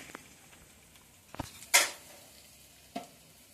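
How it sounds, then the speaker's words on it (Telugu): Sliced onions frying in a pan, soft sizzling with a few sharp stirring clinks and scrapes of the spoon against the pan, fairly quiet and close, no talk. "ఇలా కట్ చేసిన ఉల్లిపాయలు వేస్తున్నాను. ఇవి బ్రౌన్ కలర్ వచ్చేదాకా వేయించుకోవాలి."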